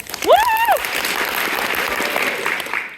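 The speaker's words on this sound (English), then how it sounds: "The applause sign lights up, and the audience claps." A theater audience claps together in a dense, steady burst of applause. A voice whoops near the start, and the clapping holds at an even level before tapering off.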